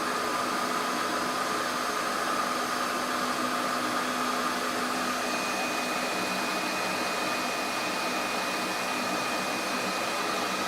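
Shapeoko 5 Pro CNC router cutting old reclaimed wood aggressively, a loud, steady high-pitched whine and broadband roar holding continuously, with the spindle tone dipping slightly under load.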